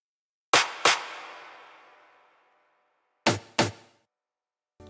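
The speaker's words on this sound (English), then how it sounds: "I also added another clap and percussion every 4 bars to fill up the space," Sparse tech house percussion accents: two sharp clap-like hits, the first ringing out with a long decaying tail, then after a gap two more short hits and a final strike, clean and without talk.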